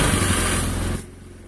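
An automatic scooter with a smooth CVT runs close and loud after being started, its steady engine tone dropping noticeably in level about two-thirds of the way through.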